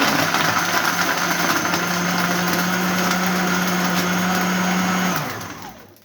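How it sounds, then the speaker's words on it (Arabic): A blender whirs loudly and steadily while mixing sugar, coconut, milk and ice, then spins down and fades out over the final second as the motor stops. "هنضرب السكر وجوز الهند واللبن والتلج مع بعض الاول"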